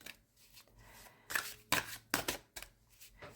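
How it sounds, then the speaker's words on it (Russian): Tarot cards shuffled by hand in several quick riffling bursts, close and crisp, separated by brief quiet pauses over a soft room hum. "3 карты мы сейчас с вами достанем"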